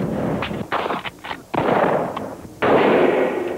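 Gunfire at an American frontier-style shooting range in 1992, several loud sharp shots with ringing reports that overlap and blend into sustained noisy bursts, recorded off an old broadcast.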